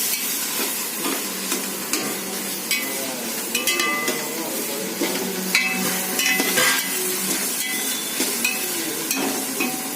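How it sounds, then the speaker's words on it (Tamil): Onions sautéing in a pan with ginger-garlic paste for vegetable biryani, a steady close sizzle broken by frequent scraping stirs and light clinks of a spoon against the pan. "அந்த விழுதையும் இந்த வெங்காயத்து கூட போட்டு நல்லா வதக்கணும்"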